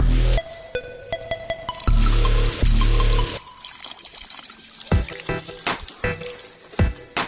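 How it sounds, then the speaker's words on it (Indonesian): Water poured onto the soil of a potted bougainvillea gives short, close bursts of splashing and gurgling, broken up by brief pauses and scattered drips. "Minimal begitu disiram, contohnya itu disiram"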